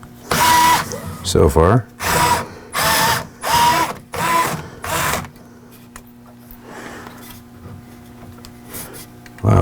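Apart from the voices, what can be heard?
unscrewing screws of Creality K1C 3D printer print head cover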